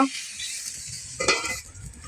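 Fish kofta curry masala being stirred in a pan, steady sizzling with a louder scraping stir near the middle, close and alone.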